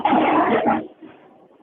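A Staffordshire Terrier, a pit bull type, lets out one short, loud, rough bark-like vocal burst up close, then falls to quiet background noise.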